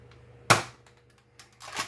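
A Nerf Hammershot blaster fitted with an intermediate upgrade kit fires a dart with a sharp, loud snap, followed by a second fainter pop-and-thud near the end, both close and alone against quiet background.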